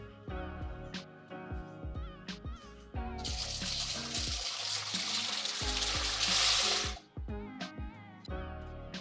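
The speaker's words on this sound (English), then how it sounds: "now that our water is boiling, we're going to add our pasta" Pasta poured into a pot of boiling water while making truffled mac and cheese, giving a loud, bright rushing hiss that swells for about four seconds and then settles back beneath quieter kitchen clatter.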